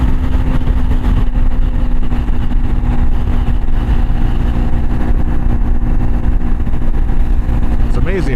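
A Triumph Scrambler 400X motorcycle fitted with a 15-tooth sprocket, riding at higher speed, a loud, steady engine drone with a constant tone and rushing wind, unbroken for several seconds.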